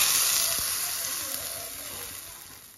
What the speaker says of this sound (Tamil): இப்போ நம்ம தாளித்து அதில் கொட்ட போகிறோம்.